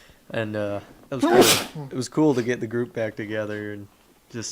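A single loud, sharp sneeze bursts out close to the microphone in the middle of a conversation, with people talking before and after it.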